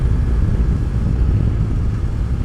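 A BMW S 1000 XR motorcycle with a 999 cc engine rated at 165 horsepower drones steadily while riding, a loud, constant engine and wind roar with no pauses.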